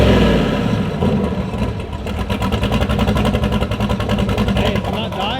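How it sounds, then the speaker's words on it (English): A car engine runs on a dyno on pump gas, loud and close, with a rough rhythmic pulsing that rises and falls as it revs up and keeps running without stalling. "it's not dying after it revs up"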